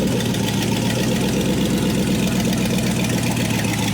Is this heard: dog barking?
no